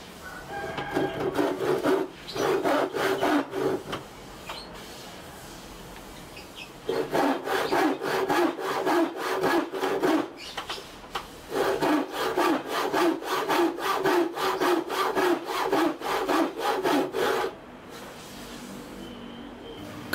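A small Hasston hand saw cuts through wood in rhythmic rasping strokes, close and loud, in three long bursts separated by short pauses.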